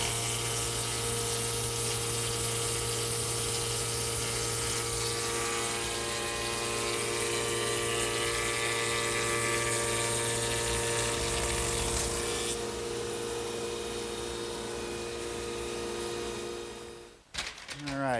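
A wood molder's infeed roller drives stock through spinning knives, giving a steady, loud mechanical drone with a whining hum that holds for many seconds before cutting off abruptly with a final clunk.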